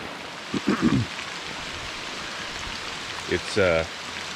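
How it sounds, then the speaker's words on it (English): Heavy hurricane rain drumming steadily on a camp canopy in Georgia during an overland trip, a dense close hiss that runs throughout, with brief voices talking over it. "I'm sure that if we didn't have the canopy, it'd be raining quite a bit harder."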